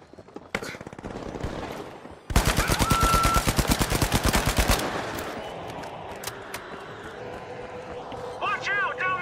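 Video game battle with a turret firing bursts of rapid automatic gunfire, loud and close, a dense fast stutter of shots lasting a couple of seconds, then scattered shots and combat noise continuing beneath.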